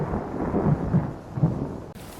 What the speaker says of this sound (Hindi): उस शाम बहुत तेज बारिश शुरू हो गई।